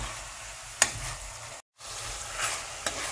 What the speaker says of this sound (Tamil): நல்லா வாசம் வர வரைக்கும் கொஞ்சம் இப்படி வதக்கணும்.